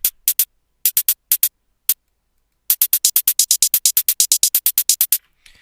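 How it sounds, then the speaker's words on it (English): A second, supporting closed hi-hat in a dance track ticks in short, bright, dry hits: sparse scattered groups at first, then a fast, steady run of evenly spaced ticks, alone and clear. "And is supported by a second hi-hat like this."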